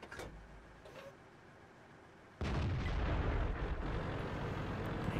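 Tank cannon shot in World of Tanks, a sudden heavy boom that drops into a sustained loud rumble, preceded by quieter engine and battlefield noise.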